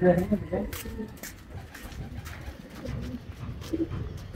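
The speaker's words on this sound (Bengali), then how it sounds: "আজকে হলো আমাদের 160 কিলো রেস ছিল, সব কবুতর চলে আসছে।" Racing pigeons returning to the loft after a 160 km race, with low, repeated cooing that comes and goes near at hand under ongoing background voices and movement.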